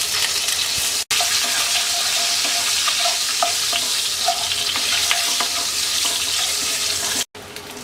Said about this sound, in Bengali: এবার আমরা ডিমগুলো হালকা ভেজে নেব।